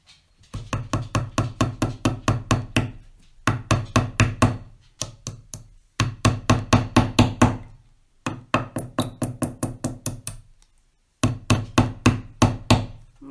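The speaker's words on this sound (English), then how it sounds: "I'm getting my workout with the hammer" A hammer knocks repeatedly on a wooden sign in quick bursts of even blows, separated by short pauses, close and loud with no talk.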